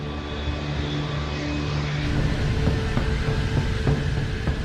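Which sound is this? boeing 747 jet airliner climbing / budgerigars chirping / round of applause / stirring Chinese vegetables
boeing 747 jet airliner climbing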